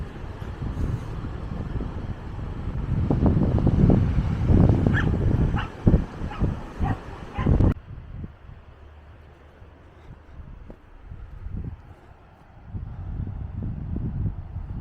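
Dogs bark in a short cluster of sharp yelps on a windy Norfolk coastal path at the seaside, moderately distant, followed by quieter wind and ambient noise.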